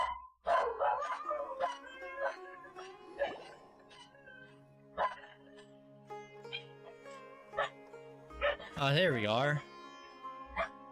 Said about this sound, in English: Just ignore the dog there, for whatever reason.